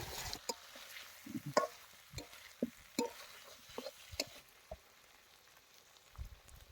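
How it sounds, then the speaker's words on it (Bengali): South Indian–style chicken fries with a coconut and spice paste, heard as soft, faint sizzling broken by irregular taps and scrapes of stirring, close by with no talking. "এখন আমরা চিকেনটা ঢেলে দেবো এখন আমরা ভালো করে চিকেনগুলো মশলার সাথে কষিয়ে নেব"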